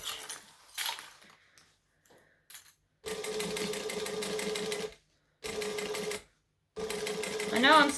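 A domestic sewing machine runs in three steady mechanical bursts separated by short pauses, back-stitching at the end of a seam on a bag. Quiet handling sounds come before the bursts, and a voice speaks briefly near the end.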